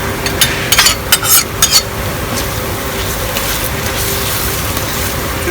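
A utensil stirs sautéing carrots, onions and tomato paste in a pan, with a few loud scraping strokes early on over a steady, even sizzle that carries on alone.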